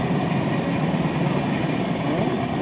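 Train rolling past on a railway track very close by, a loud steady rumble and rattle that holds throughout with no talk.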